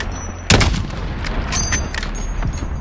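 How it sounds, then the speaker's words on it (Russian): A cluster mine bombardment in the video game Call of Duty Warzone opens with a sharp, loud blast, followed by a scatter of smaller detonations and crackling bursts spread over the next couple of seconds. "Начинаю обстрел кассетными минами."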